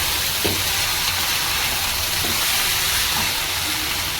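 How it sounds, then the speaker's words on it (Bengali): Cooked jeera rice with cumin being stirred and fried in hot oil in a pan, a steady loud sizzle and hiss with a few soft scraping stirs. "জাস্ট তেলের মধ্যে একটু দিয়ে নেড়ে দিলাম"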